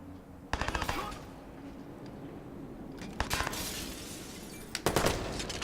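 Rapid bursts of automatic gunfire from Watch Dogs gameplay, three short loud volleys spaced a couple of seconds apart over a steady background hum.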